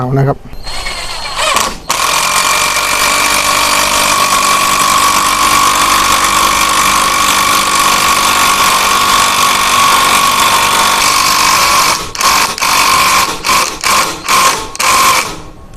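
An IMAX IMIS-12v impact driver drives a long 2-inch screw, a loud close-up motor whine with sustained rapid hammering that breaks into several stuttering bursts near the end as the screw stalls.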